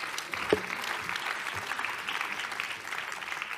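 An audience applauds a woman named Dominique as she receives her prize at a French seniors' authors event, steady clapping filling the room, fairly distant and even, with faint voices mixed in.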